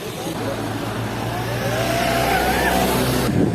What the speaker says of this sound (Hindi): अभी गाड़ी कंटिन्यू आ रहा है